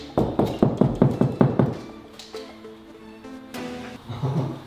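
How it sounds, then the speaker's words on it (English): Several quick, firm knocks tapped against a ceiling panel during a garden room build, a rapid hollow series up close, followed by quieter tonal background sounds. "it's always important to give it the old knock test."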